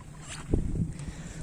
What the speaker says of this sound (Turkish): Bugün çok rüzgar var.